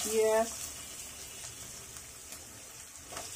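Cinnamon sticks and whole spices sizzle in hot oil in a pan for beef bhuna, a steady close frying hiss after a brief tonal clatter at the start.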